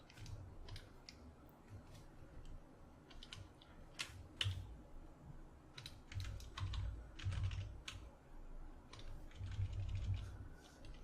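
Number shortcut keys pressed on a computer keyboard during digital painting, sounding as faint, quick, irregular clicking taps in short clusters over quiet background rustle.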